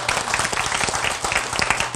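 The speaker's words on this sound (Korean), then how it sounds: "박수 한번 부탁드리겠습니다." Audience applause at a skincare product sales seminar: a room of people clapping in a continuous, moderately loud patter with distinct individual hand claps, no talking over it.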